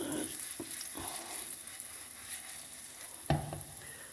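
Turkish pan bread fries in sunflower oil, hissing in a steady, close sizzle, with a few soft knocks and stirring sounds and no talking.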